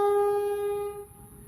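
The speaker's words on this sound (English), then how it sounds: "the constant blaring of the train horns lately is driving them to breaking point" A train horn on the Banyo railway line in north Brisbane, a single loud sustained tonal blast that fades out after about a second, heard alone without speech.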